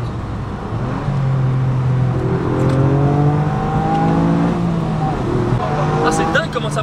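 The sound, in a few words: three-cylinder Mini car engine accelerating while driving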